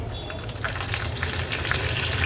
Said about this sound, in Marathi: राई आणि जिरं थोडं तडतडलं का कढीपत्त्याची पानं घालते।